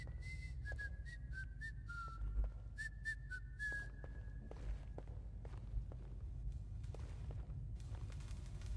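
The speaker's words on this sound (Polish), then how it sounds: "Może tego gwiżdżącego pajaca uciszymy." A man whistles a wandering tune in a Hitman: Absolution game level, the melody faint and intermittent over steady low background hum and scattered footsteps.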